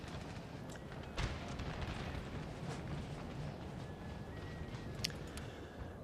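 Cannon fire in the Napoleonic battle game Napoleon: Total War, a deep boom rising over a constant rumbling battle din, with a second sharp blast near the end amid distant crackling gunfire.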